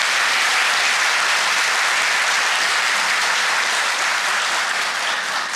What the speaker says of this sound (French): Second bon applaudissement pour Adama Bictogo.